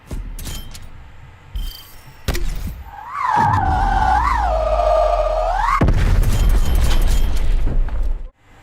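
A weapon firing in the Black Ops Cold War video game: sharp thumps and bursts, then a wavering electronic tone for a few seconds, followed by a noisy blast, all loud and close.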